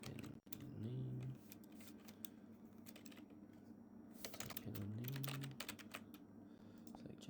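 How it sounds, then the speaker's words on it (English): Keys tapped on a computer keyboard while a name is entered into a mobile web app form, light irregular clicks in quick bursts over a steady low hum. "type in name"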